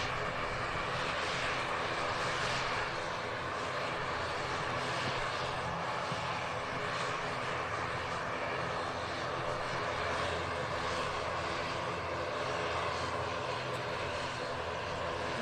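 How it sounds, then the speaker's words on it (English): An EasyJet Airbus A319 jet taxis out at Manchester Airport, a steady broadband engine roar held at a moderate distance for the whole stretch with no talk over it. "there's an EasyJet on the taxi out to Amsterdam A319"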